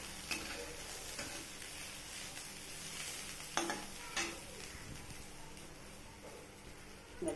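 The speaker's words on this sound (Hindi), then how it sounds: "तेल गरम हो गले फुटण सुखिला लंका पियाज रसुण अदा सब पकई देकी" Dried chilies, onion, garlic and ginger fry in oil with a quiet, continuous crackling sizzle, marked by a handful of light stirring clinks against the pan. No voices.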